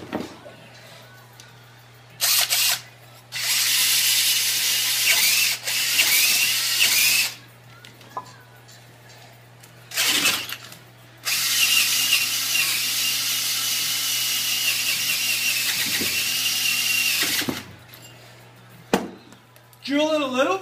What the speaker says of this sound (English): Drill it a little bit. Don't try to take it too much at a time